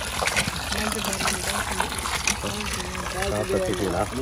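Water flows steadily from a hand-pump water outlet, a constant rushing gush under continuous nearby talking.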